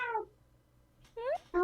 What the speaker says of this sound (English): Sorry, my cat wants attention.